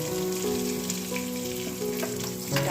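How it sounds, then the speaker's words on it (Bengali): A pot of lentil dal boiling on the stove, giving a steady close bubbling and simmering sizzle with faint clinks of utensils, no voices. "ডালটা দেখো আমার এই যে টকবক করে ফুটছে"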